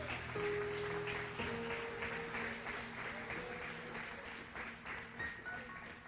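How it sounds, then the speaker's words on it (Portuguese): A church congregation applauds steadily through the whole stretch, the dense clapping close and loud, with sustained keyboard or organ tones held underneath. "Será que você pode aplaudir a Jesus por isso?"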